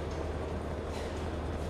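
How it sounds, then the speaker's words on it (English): A train rumbles by in the video game Kane & Lynch: Dead Men, with a steady, dense low roar of railcars that fills the whole short moment without talk. "Guess we're taking the train."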